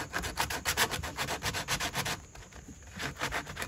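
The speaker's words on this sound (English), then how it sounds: "we're going to sand where we finished with the dowels" A sanding disc is rubbed by hand over a wooden dowel joint on a framed floating shelf. The close, rhythmic back-and-forth strokes run steadily and then fall away into a softer scrape.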